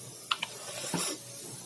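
Black cumin seeds and a bay leaf hit hot oil, giving a brief, steady sizzling hiss with a couple of sharp pops near the start, with no talking.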